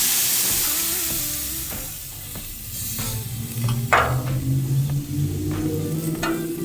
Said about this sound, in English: Let's get the chicken on the